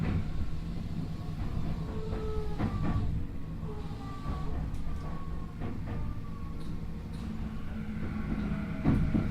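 Interior running sound of a Tokyu 5050 series mid-production train with a Hitachi IGBT inverter, recorded at the car end on a Seibu line run: steady low rumble and wheel noise with rising and falling inverter tones throughout, no talk.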